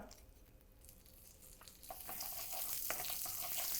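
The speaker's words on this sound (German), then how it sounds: "Ich mache noch ein bisschen Butter drin." Butter sizzles in a hot pan while beef fillet is pan-fried at reduced heat, a soft hiss that swells after a couple of seconds into a steady, close frying crackle.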